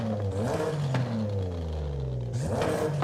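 Car engine in Forza Horizon 5 with an upgraded exhaust, revving loudly up and settling back down, then a second sharp rev near the end, close up with a rough rasp and no talk.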